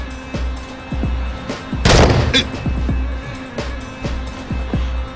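Gunshots in a Turkish TV crime series scene, a rapid string of sharp close shots with one heavy loud burst in the middle, ringing and echoing.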